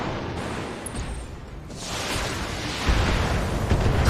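A stray shot striking a starship in Star Trek: Judgment Rites (1993, Interplay) lands as a rough, noisy impact burst. A heavier thud follows near the end, over constant static-like game noise.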